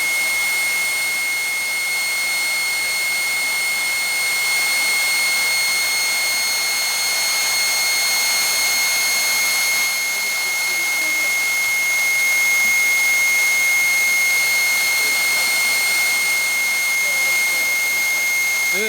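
A TEI TS1400 helicopter turboshaft engine runs steadily with a high-pitched whine and several sustained tones over a broad roar, loud and unchanging for the whole stretch.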